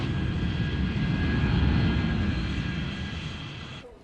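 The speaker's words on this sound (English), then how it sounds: "It's our first flight coming in." A United jet airliner from Chicago comes in to land at Heathrow Airport, its engines a broad, steady roar that swells slightly and then fades, with no talk.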